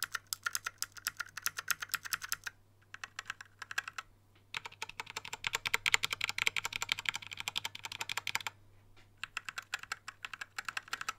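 Rapid clicky keystrokes from a mechanical keyboard come in close, bright bursts, broken by a few short pauses.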